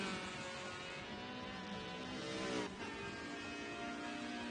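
Formula Mazda/Ford race car engine in a racing sim: a steady, fairly loud engine whine held at high revs, with a brief pitch dip near the end and no voices.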